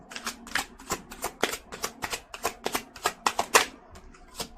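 Tarot cards being shuffled and pulled from the deck: a close, crisp run of quick papery riffles and flicks in an uneven rhythm, with no voices.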